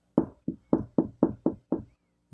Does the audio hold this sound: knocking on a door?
yes